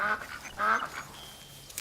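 Geese honk in the Soulframe video game, a few short nasal calls close by, clustered near the start and middle, then tapering to faint stray sounds.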